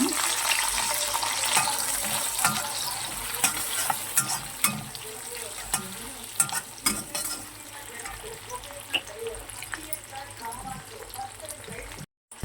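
Garlic pieces with red and green chillies fry in hot oil for chicken 65, a dense, bright, crackling sizzle with irregular stir clacks, close up and loud; a voice speaks over part of it.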